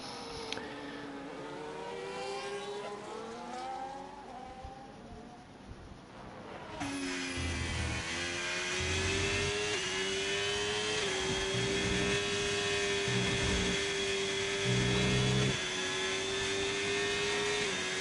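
Sauber Formula 1 car in a racing video game lapping the Barcelona circuit, its high-pitched engine whine rising and falling steadily through gear changes, loud and continuous throughout with no talking.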